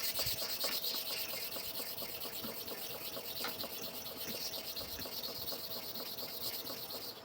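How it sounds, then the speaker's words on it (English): A clipper blade is sharpened with repeated rubbing strokes, a steady scraping rasp at close range that keeps an even level throughout, with no speech. "I'm sharpening this one on this half part. I'm sharpening the other one on the half part."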